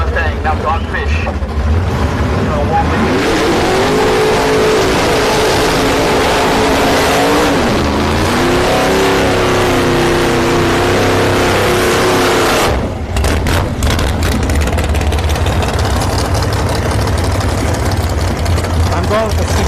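Two no-prep drag cars, a C4 Corvette and a red and black third-gen Camaro, rev hard with rising and shifting engine tones, then blast down the strip at Orlando Speed World with a loud sustained roar while a voice talks over the noise.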